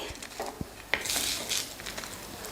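Fried green chillies scraped from a dry pan into a bowl for coconut chutney: light clinks and scrapes of a utensil against metal, with one sharp tap near the middle, close and fairly quiet.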